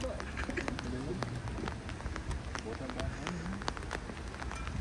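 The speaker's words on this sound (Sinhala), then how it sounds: "තද වැස්ස පටන් ගත්තා" Heavy rain falls outdoors during a grocery trip in Italy, a dense, steady patter and splash on surfaces close by, with a voice speaking over it.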